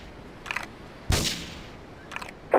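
Gunfire in the video game Grand Theft Auto III: a sharp loud burst stands out in the middle, with a couple of fainter shots before and after and another starting at the very end.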